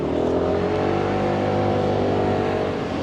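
A car engine revs and accelerates at the start of a road drive in Taiwan, heading from Taipei toward Sun Moon Lake, a loud steady engine drone close to the cabin with no talking.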